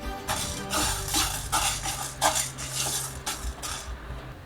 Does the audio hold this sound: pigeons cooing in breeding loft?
no